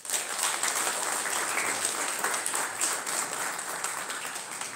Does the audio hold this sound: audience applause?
yes